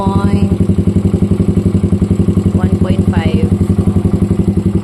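A Raider 150 motorcycle with a carburetor idles after a cold start, its loud, close engine thumping in a fast, even pulse that holds steady throughout.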